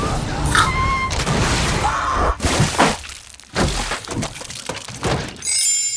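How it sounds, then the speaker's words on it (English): Exploding head sound effect from a horror comedy film, a burst of loud crunching, cracking and splattering impacts in several bursts, close and dense, ending with a brief high metallic ring. "I love that exploding head fantasy. And the sound design is lovely."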